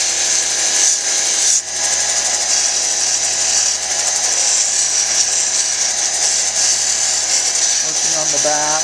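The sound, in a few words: sanding back of soft stone cabochon on 600 grit wheel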